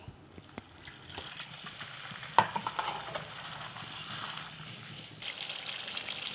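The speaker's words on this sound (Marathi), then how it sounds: "हे पुन्हा मसाले संपूर्ण भाजून घेत आहोत" Ground spice masala roasting in a pan with a splash of water, a soft continuous sizzle with scattered stirring scrapes and a sharp clink, fairly quiet and close, no voices.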